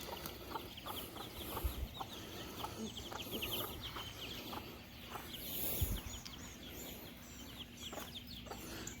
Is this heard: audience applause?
no